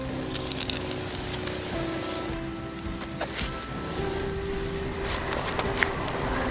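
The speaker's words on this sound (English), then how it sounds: "I'm going to spray these weeds." A continuous hiss of a pump sprayer spraying weed killer, a Tenacity and Weed B Gon mix, on weeds runs throughout, with small clicks and rustles layered over it, close and steady.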